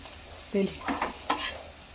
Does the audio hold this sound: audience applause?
no